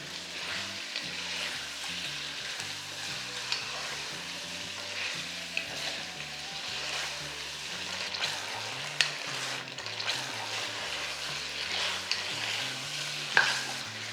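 Crushed ginger and garlic paste sizzles and fries steadily in hot oil over a high flame while being stirred for Lucknowi chicken biryani, with occasional sharp clicks of a spoon against the pan.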